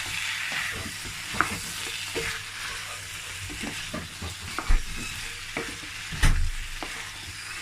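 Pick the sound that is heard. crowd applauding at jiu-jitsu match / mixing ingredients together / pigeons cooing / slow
mixing ingredients together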